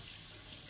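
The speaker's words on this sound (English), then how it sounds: "I do want to wash my face one more time just to make sure." Water runs steadily from a bathroom tap into a sink while a face is washed after a mud mask, a close, even hiss with no talking.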